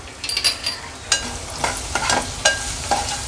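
Spices with crushed ginger, garlic, turmeric and Agri Koli masala fry in oil as a spoon stirs, a few distinct scraping strokes over a continuous sizzle, close up with no voice.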